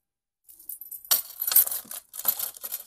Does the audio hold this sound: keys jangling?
yes